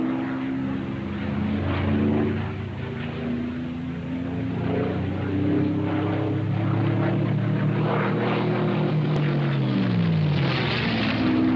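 A war-surplus P-51 Mustang propeller fighter runs with a loud, steady droning engine roar whose pitch slowly shifts and dips toward the end, continuous throughout with no speech.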